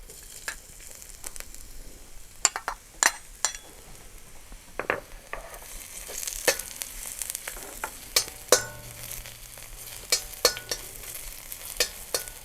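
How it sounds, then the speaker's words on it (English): Ingredients for a tofu dish fry in a pan, giving a quiet steady sizzle broken by sharp clicks and scrapes as a utensil stirs against the metal, heard up close with no talking. "Fry it until it gets fragrant."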